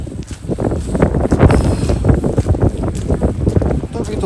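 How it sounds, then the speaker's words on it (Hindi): Strong wind with snow buffeting a rider on a scooter, a loud, continuous roaring rush with gusty surges and no speech. "तेज़ हवा के साथ बर्फ़ है"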